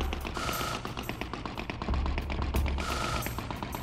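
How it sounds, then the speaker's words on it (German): Rapid bursts of gunfire in Oddworld: Abe's Exoddus, several rattling volleys aimed at the player character, loud and close with no one speaking. "Weil die schießen nämlich direkt auf uns."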